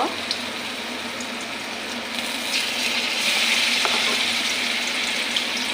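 Rice-flour dough pieces drop one at a time into a wok of hot oil, giving a steady broadband sizzle and bubbling that grows louder partway through, with small pops and crackles scattered across it and no talking.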